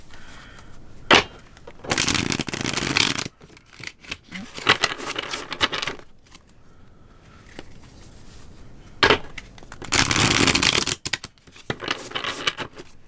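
Tarot cards being reshuffled by hand in short bursts of riffling and flicking, several rapid rustling passes separated by quieter pauses, close and fairly loud with no talk over it.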